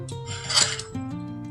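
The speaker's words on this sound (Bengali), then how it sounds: "ভালো করে নুন হলুদ দিয়ে মাখিয়ে নিতে হবে।" Raw fish being worked by hand with salt and turmeric for prawn fritters wrapped in bottle gourd leaves, a close, soft wet rubbing and squelching over about a second and a half.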